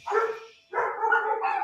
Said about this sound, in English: The dogs. Oh, the dogs.